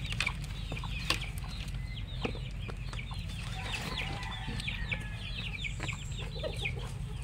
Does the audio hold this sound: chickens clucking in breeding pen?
yes